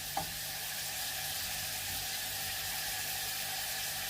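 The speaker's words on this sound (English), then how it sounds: "So I will just cook up the bacon, wait till it goes a little bit crispy" Bacon fries in a pan until crispy, giving a steady, even sizzle and crackle that holds throughout, close and alone.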